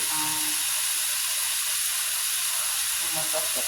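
Plantain frying in hot oil for a Jamaican breakfast gives a steady, bright sizzling hiss throughout, with a voice talking briefly at the start and end.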